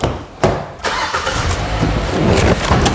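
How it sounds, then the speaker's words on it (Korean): A Hyundai Sonata New Rise LPI with over 160,000 km is started with a folding key. A short crank gives way to a steady, fairly loud idle close by. "자, 이제 시동을 걸고 엔진룸을 한번 살펴보시겠습니다."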